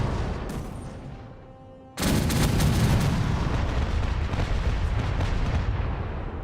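A full volley of ship cannons erupts in the pirate game Caribbean Legend. A faint rumble is followed by a sudden, sustained roar of overlapping heavy cannon blasts that stays loud to the end.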